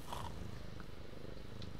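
Soft, steady purring from a pet cat in a video game, a low continuous rumble held quietly throughout with no talk over it.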